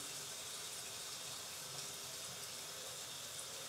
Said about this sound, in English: Wetting my hair. Wetting it really good.